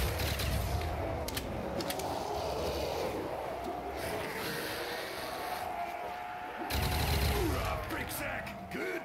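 A dynamite explosion in a Minecraft zombies map booms over loud continuous rumbling and rattling game noise. A second surge of blast noise follows several seconds later.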